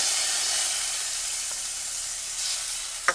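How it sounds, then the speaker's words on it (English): Garlic sizzles in sesame oil in a pan, a bright, even hiss that holds steady and close, ending with a couple of quick clatters of a utensil, no one speaking. "take your sesame oil, put that in the center of your pan, add your garlic"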